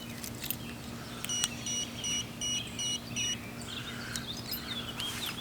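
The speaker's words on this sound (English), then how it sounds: "right here's the alarm" An e-bike motion detector alarm chirps a short series of evenly spaced electronic beeps as it is set, fairly faint over a low steady hum, with no talking.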